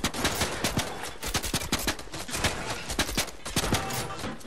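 Rapid bursts of gunfire from the video game Fortnite fill the clip, loud and dense volleys of shots crackling almost continuously for several seconds.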